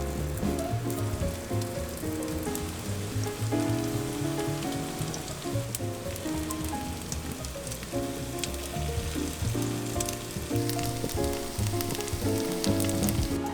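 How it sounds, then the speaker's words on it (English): Breaded tofu pieces sizzle and crackle steadily in hot oil, a dense, continuous frying hiss close up with no voices. "frying them in hot oil until they're"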